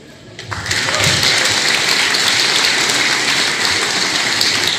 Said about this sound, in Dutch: Een heel groot applaus.